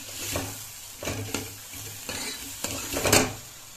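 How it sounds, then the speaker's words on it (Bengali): Masala and lentils stir-fried together in a pan for dal chorchori, a steady close sizzle broken by repeated scraping stirs of a spatula against the pan, with a louder clattering stroke near the end. "এবার হচ্ছে সবগুলোকে একসাথে একটু কষিয়ে নেব"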